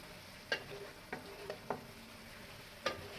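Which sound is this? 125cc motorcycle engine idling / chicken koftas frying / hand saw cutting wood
chicken koftas frying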